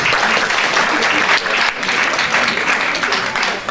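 An event audience claps steadily, a dense and fairly loud patter of many hands sustained for several seconds with little variation.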